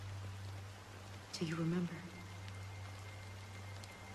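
Steady rain falls in the video game Honkai Star Rail, a soft continuous hiss throughout, briefly overlaid by a spoken line.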